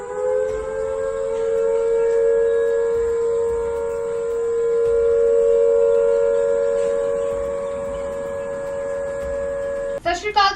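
A civil defense air raid siren in Chandigarh, India, wails steadily for about ten seconds during drone attack alerts, rising and falling slightly, before a brief clatter cuts in at the end.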